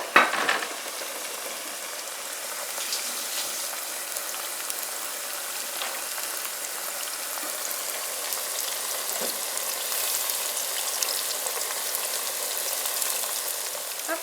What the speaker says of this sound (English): as you fry, you're going to need to add more oil